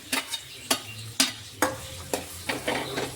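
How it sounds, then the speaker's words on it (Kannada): Onions fry with soybeans and chicken masala in a pan for a fresh-coconut soybean palya, with close, rhythmic scraping stirs about every half second over a soft, steady sizzle. "ಈ ಈರುಳ್ಳಿನ ಚೆನ್ನಾಗಿ ಸ್ವಲ್ಪ ಕಲರ್ ಚೇಂಜ್ ಆಗೋ ತನಕ ನಾವು ಇದನ್ನು ಫ್ರೈ ಮಾಡ್ಕೋಬೇಕಾಗ್ತದೆ ರೀ"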